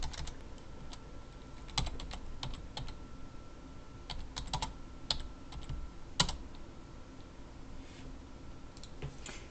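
Fingers tap away on a computer keyboard in quiet, irregular bursts of clicks at close range, with a few louder keystrokes standing out and no voices.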